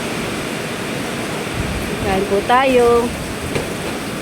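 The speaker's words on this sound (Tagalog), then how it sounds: "Malakas ang ulan." Heavy typhoon rain pours down as a broad, steady roar throughout, with a person speaking briefly over it midway.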